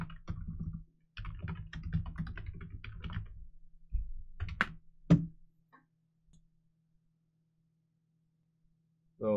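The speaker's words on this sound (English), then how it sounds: "Let me type in my name" Typing a name on a computer keyboard, bursts of quick close key clicks with short pauses, then a few isolated taps before silence.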